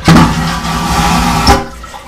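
A toilet flushing in a cruise ship cabin bathroom aboard the Norwegian Escape: a loud, close, vacuum-style whoosh and rush of water that holds steady before a final gulp and quick fade.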